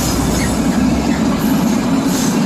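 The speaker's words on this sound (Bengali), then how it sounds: "এখন ইতিমধ্যে আমার পাশ দিয়ে একটি ট্রেন চলে যাবে" A train rumbles past close by, a continuous heavy roar of wheels on rails with a faint metallic rattle.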